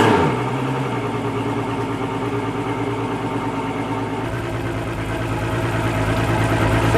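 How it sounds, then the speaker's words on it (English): A boat engine idles steadily after a Seafoam cleaning of its top end. The low, even rumble runs close and continuous, with a slight change in tone partway through and no talking. "Thanks to Seafoam, this engine always starts quick and purrs like a kitten."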